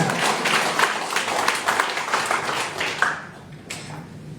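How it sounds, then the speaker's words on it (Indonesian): Audience clapping at a regional youth organisation work meeting, a burst of rhythmic hand claps that thins out and stops after about three seconds, with a last few scattered claps. "Tepuk tangan untuk kita semua."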